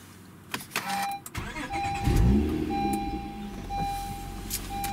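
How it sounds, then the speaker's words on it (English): A 2016 Honda Accord Coupe engine is started from inside the cabin: a few clicks and chimes, a brief starter crank, then the engine catches with a rising surge and settles into a steady idle. "I think we'll go ahead and start the car now"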